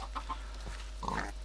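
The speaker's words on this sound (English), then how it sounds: "Pigs. Why are they all a pig?" Minecraft farm animals in a pen, pigs grunting alongside chicken clucks, a few short faint calls in quick succession followed by a slightly louder burst near the end, with no talking.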